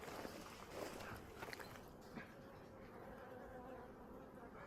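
Bees buzzing around a hive fill the air, a low continuous drone with a few louder passes close by, no voices.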